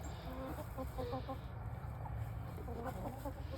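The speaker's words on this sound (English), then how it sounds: "So we'll say goodnight to these hens and roos on the last day of the year." Hens and roosters cluck and murmur continuously at close range, soft overlapping calls over a steady low background hum, with no crowing evident.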